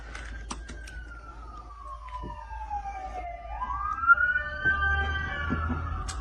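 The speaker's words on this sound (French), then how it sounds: "On a les ambulances qui vont passer." An ambulance siren wails outdoors on an American street, its pitch sweeping down and then rising again as it passes, moderately loud over a low traffic rumble with a few sharp clicks.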